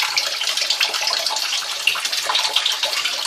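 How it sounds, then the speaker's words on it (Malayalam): Running water splashes steadily as chicken pieces are rinsed clean in a sink, a continuous close hiss and gush with no talking. "അതിനെ നമ്മൾ വെള്ളം ഒഴിച്ച് നല്ല വൃത്തിയായിട്ട് കഴുകുക"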